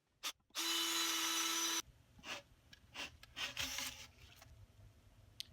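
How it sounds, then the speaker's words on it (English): A short, loud burst of a power drill whirring for about a second while drilling wiring holes in a DIY LED box sign, followed by scattered scraping and clattering handling noises. "First, I'm going to drill some holes for the wiring."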